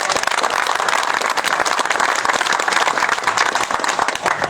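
Loud, dense applause from a crowd at a by-election campaign rally in Mokama, steady hand clapping filling the whole stretch without pause.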